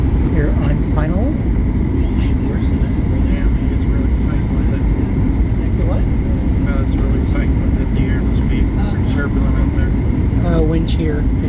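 Cabin of a Boeing 737 MAX 8 on final approach into Chicago O'Hare with landing gear and flaps down, a steady loud broadband roar of engine and airflow noise filling the whole stretch.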